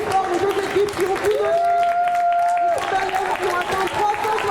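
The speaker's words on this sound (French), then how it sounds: "On peut applaudir encore plus fort les deux équipes" A crowd claps and cheers for both teams after a roller derby match while an announcer's amplified voice talks over the applause almost throughout.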